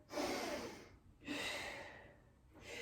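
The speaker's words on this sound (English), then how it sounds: "Take a deep breath here" During a Pilates session, two slow, deep breaths are drawn close to the microphone, each a soft airy inhale swelling then fading, with no talking.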